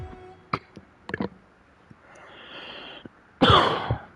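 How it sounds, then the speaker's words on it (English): A person nearby lets out a few short coughs and throat-clearing sounds, followed by a sharp burst near the end, with quiet gaps in between. "Probably from all the coughing, though."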